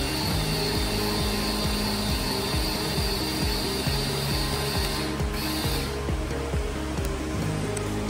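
A motorized drafting table tilts to a 20 degree angle, its mechanism giving off a steady close grinding motor hum with a rapid ratcheting clicks throughout.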